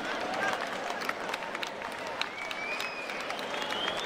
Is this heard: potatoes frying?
no